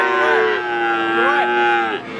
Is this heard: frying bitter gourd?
no